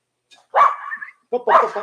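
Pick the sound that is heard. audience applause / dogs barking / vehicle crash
dogs barking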